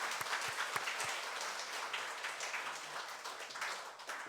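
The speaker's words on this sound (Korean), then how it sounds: "우리 좀 박수 좀 환영해 주시기 바랍니다" A church congregation applauds during a Sunday worship service to welcome a returning deacon visiting from Canada, a steady, moderately distant wash of many hands clapping at once throughout.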